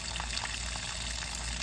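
Water gushes and splashes from a leaking dishwasher, a steady, hissing wash of liquid noise, fairly faint and continuous with no voices over it.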